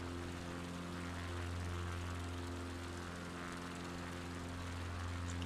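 A propeller airplane engine drones steadily and continuously during long-distance flight in a flight video game, with no talking.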